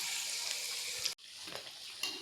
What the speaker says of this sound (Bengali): এখন মিডিয়াম আছে নিমকিগুলোকে ভেজে নেব লাল লাল করে।